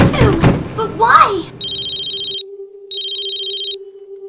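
A cell phone rings twice in sharp, bright electronic bursts, each about a second long, following a tense exchange of voices and a dull thump, with a steady low hum continuing underneath.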